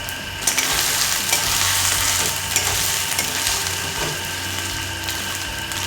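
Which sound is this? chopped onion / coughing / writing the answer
chopped onion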